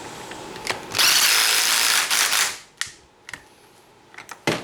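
A 12 mm socket on a ratchet or power driver snugs down a clutch bolt on a Banshee ATV, a loud buzzing burst lasting about a second and a half, then a few short sharp clicks and taps nearby.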